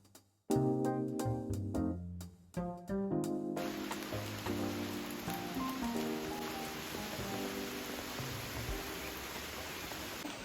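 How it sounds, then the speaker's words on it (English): After a few sharp knocks at the start, a steady dense hiss of heavy rain pours down on a woodland garden by Lake Como and continues evenly to the end. "It is pouring with rain now"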